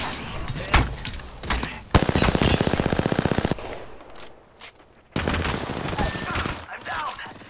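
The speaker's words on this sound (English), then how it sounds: "They're shooting at me." Video-game gunfire: bursts of rapid automatic fire and scattered shots in a shooter match, loud and close, with stretches of quieter action between volleys.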